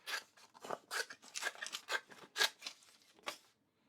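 Klein 26001 electrician scissors snip through standard paper in a quick run of about eight crisp, close cuts with a light papery crunch, heard alone.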